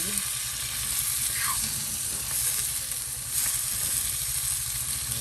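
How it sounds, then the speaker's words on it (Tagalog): Liver being sautéed in a pan for adobo gives a steady, close sizzle and crackle of frying, continuous and moderately loud, with faint stirring scrapes now and then. "eto ako ay nag-gigisa na ng atay kasi it's adobong atay"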